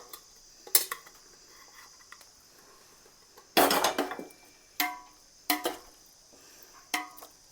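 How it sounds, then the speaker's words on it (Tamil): Boiled chicken stirred into masala in a pot for Karachi biryani, with irregular scraping clatters of a utensil against the pot, a few sharper bursts between quiet gaps, close up and no talk. "இப்போது நம்ம சிக்கன் பாயில் பண்ண சிக்கனை மிக்ஸ் பண்ணலாம்"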